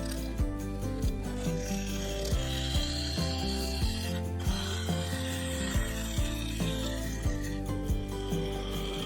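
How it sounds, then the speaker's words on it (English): Scraper hollowing out the base of a segmented sapele, ash and oak vase on a wood lathe, a continuous low motor hum under rough rhythmic scraping and chattering taps, close and steady with no speech. "Then it was back to the scraper to hog out material in the base."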